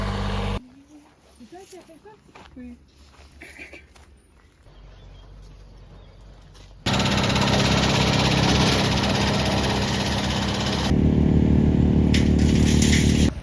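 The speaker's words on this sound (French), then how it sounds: "le vacarme produit par le tracteur, le broyeur et la tronçonneuse vient déranger le silence paisible de cette forêt" Quiet forest activity gives way to a loud, dense roar of a tractor, wood chipper and chainsaw, growing even louder toward the end.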